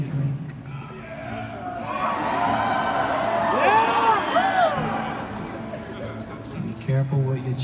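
Concert audience at a show in Greenville, SC cheers and whoops, a swelling wash of voices peaking midway with high shouts, while someone speaks over it.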